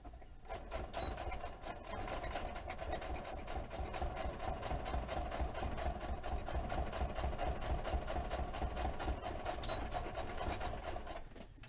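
A sewing machine stitches through a stack of papers, running in one steady, continuous mechanical whir with a fast needle rhythm, close up and alone for the whole stretch.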